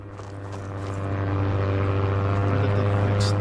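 Bomber plane engines in the survival game Misery, a steady droning propeller hum that grows slightly louder as the aircraft passes overhead, continuous with no talk.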